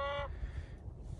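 A single loud, harmonic chicken call, brief and close, fading into low rumbling background noise.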